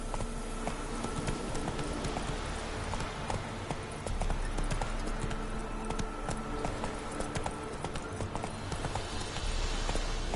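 The horse Roach gallops in The Witcher 3: rapid, steady hoofbeats drum continuously and loudly over a dense, constant game soundscape.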